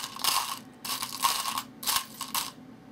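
Small metal machine screws rattle and scrape as they are backed out of a model aircraft wing's back plate and gathered by hand, in three close bursts of crunchy clicking with short pauses between.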